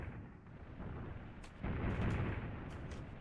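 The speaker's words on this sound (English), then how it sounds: "I can hear a lot of explosions going on." Muffled explosions from the block-building war game Guns, Blocks and Steel, low booming rumbles rolling in, with a heavier blast swelling after the midpoint and lingering, no speech.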